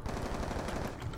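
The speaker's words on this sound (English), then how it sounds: "This is my gun though, MP7. This thing is awesome. With suppressor." A suppressed MP7 fires in a shooter video game, a rapid run of muffled automatic shots in a steady rhythm, moderately faint with no talking over it.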